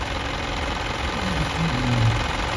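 An Isuzu 4HF1 diesel engine idles steadily at close range after repair work, giving a low, even mechanical rumble with a faint knocking texture and no voices.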